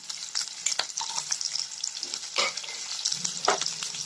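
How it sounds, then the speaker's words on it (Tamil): Onions and curry leaves frying in a hot tempering, a lively close sizzle with bursts of crackle and spatula scrapes throughout, no voices. "கொஞ்சம் வெங்காயம் சேர்த்து தாளிச்சுக்கலாம்."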